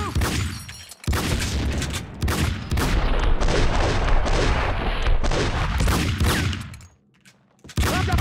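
Sustained gunfire in the Max Payne 2 video game: dense, loud bursts of shots that run almost without a break for several seconds, a short pause near the start and a drop to near silence before a final burst.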